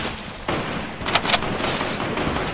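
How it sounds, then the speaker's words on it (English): Gunfire in the video game Fortnite: two sharp bursts of shots close together, with a steady noisy game background running throughout. "I hear gun battle. I hear gunshots."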